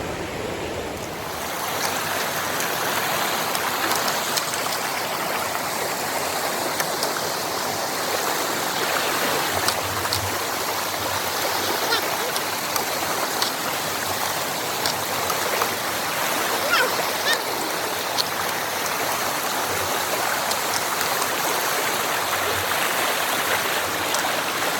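Continuous rushing of a stream at a hiking-trail water crossing in the Ozark Highlands, water flowing steadily over rocks with a constant, close, full hiss and no pauses.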